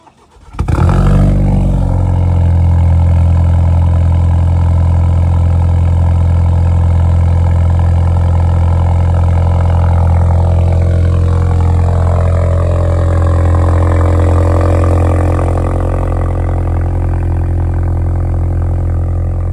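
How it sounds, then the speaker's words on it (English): An Alfa Romeo Stelvio 2.0 with a Monza exhaust cold-starts after sitting overnight in 28-degree weather, cranking briefly then roaring into a loud, high fast idle that holds steady and close. "Car's been sitting overnight, so you're gonna hear the true cold start."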